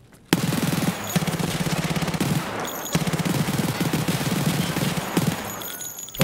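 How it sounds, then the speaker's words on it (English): Rapid bursts of SR-25 rifle fire in a video game, loud and close, come in long strings of closely spaced shots with short gaps between them. There is no talk. "My gun shoots faster!"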